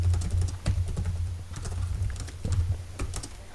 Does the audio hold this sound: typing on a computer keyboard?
yes